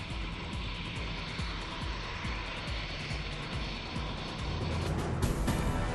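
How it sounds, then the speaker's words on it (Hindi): Air Force fighter jets flying at the Vayu Shakti air show, a continuous loud engine roar with a broad rumbling texture that holds steady and grows a little stronger near the end. "एयर शो वायु शक्ति में वायुसेना के लड़ाकू विमानों ने भरी उड़ान"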